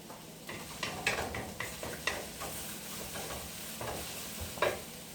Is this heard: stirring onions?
yes